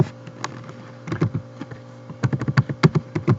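Keys clatter on a computer keyboard as a word is typed into Tinkercad 3D design software while making a stamp: sparse light taps at first, then a denser run of crisp, close clicks toward the end.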